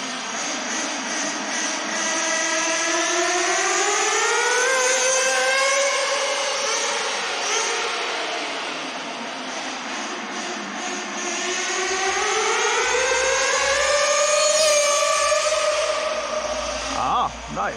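A HoBao Hyper VS2 nitro RC car's small engine screams past twice, its high whine sweeping up and down in pitch as it approaches and recedes, loud and continuous.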